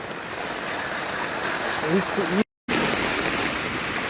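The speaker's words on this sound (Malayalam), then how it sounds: "ഹൈവേയിലെ വെള്ളത്തിൻ്റെ പവറാണ് ഈ കാണുന്നത്. അതിൻ്റെ പുറമെ റോട്ടിലൂടെ ഒലിച്ചു തരുന്ന വെള്ളത്തിൻ്റെ സ്പീഡാണിത്." Floodwater from the national highway at Velimukku Palakkal rushes along a road in a loud, steady roar, with someone talking over it and a brief silent gap midway.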